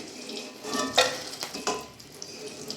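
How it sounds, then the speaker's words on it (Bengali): Chilies frying in hot oil for a pumpkin dish, a soft sizzle punctuated by a few sharp crackles and pops and light stirring, close and fairly quiet. "লঙ্কার বীজ ফাটতে কমিয়ে দিয়েছে এখন, তাও এত গরম ফাটছে শুরু করে"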